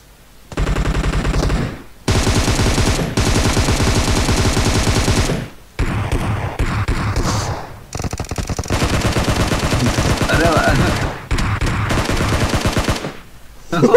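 Loud bursts of rapid automatic M762 rifle fire in PUBG Mobile, several long volleys separated by short pauses.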